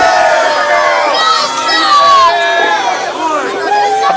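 Loud wrestling-event crowd cheering and shouting, with many high voices yelling and whooping in a dense, continuous roar that rises and falls over several seconds.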